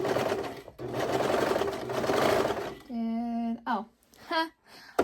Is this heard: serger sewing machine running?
yes